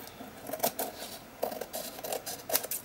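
Quiet, close snips and rustling of scissors cutting paper, a few short irregular bursts with brief pauses between them.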